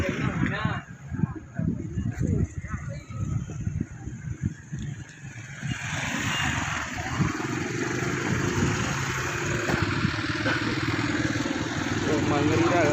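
A group of motorcycles idles together, a low, rumbling engine drone that grows fuller and steadier partway through. People talk nearby over the engines throughout.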